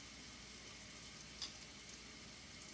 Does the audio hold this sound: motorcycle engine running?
no